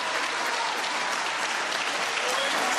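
A dense crowd applauds steadily at a snooker final at the British Open, loud and continuous with no pauses.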